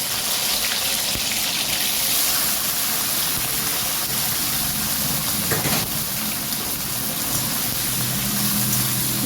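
500 grams of sliced okra dropped into hot oil, a loud continuous rushing sizzle like heavy rain that holds steady throughout, no talking.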